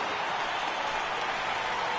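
Virtual stadium crowd in MLB The Show 18, a sold-out Los Angeles ballpark for a San Diego vs. Los Angeles game, roaring as a steady, dense wash of cheering and clapping across the whole stretch, with no voice on top.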